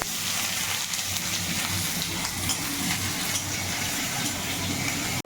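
Dried red chillies, bay leaf and chopped onion frying in oil for mung dal, a steady, loud sizzle with faint crackling throughout and no voice.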